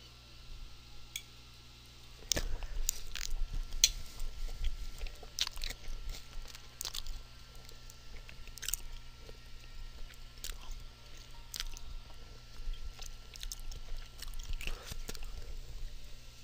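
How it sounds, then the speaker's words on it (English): Chinese food being chewed close to the mic, soft repeated crunchy bites and wet mastication sounds at a faint level over a quiet background hum. "I have no idea if you guys can hear me chewing my food"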